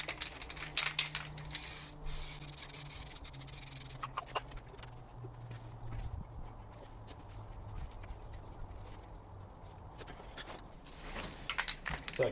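Bursts of aerosol spray hiss as a coat of paint goes onto parts of a 1988 Nissan Silvia S12 CA18ET engine during a refresh. Strong at first, then lighter intermittent spraying and faint handling noises.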